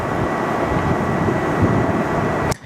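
An Etihad airliner moves onto active runway 34 left at Sydney Airport, its engines a steady broadband roar held at constant level before cutting off abruptly near the end, with no talk.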